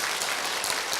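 A congregation at a church revival meeting claps in a dense, continuous wash of applause, close and steady throughout the short moment.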